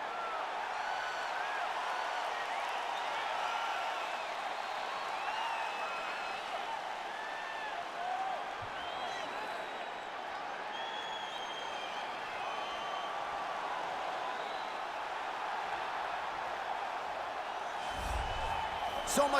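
Arena crowd in EA Sports UFC 4 during a fighter's walkout before a strawweight title fight, heard as a steady, distant roar of cheering that holds throughout, with commentators talking over it.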